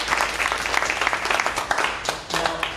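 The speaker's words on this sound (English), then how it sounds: "I think you owe yourselves a big round of applause." Audience applause fills the room, a dense steady wash of clapping from a large crowd at a vegan advocacy talk, loud and continuous throughout with little let-up.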